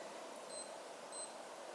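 Two brief, high-pitched beeps from the buttons of a Naviforce NF9133 digital watch, about half a second apart, faint and alone in a quiet room.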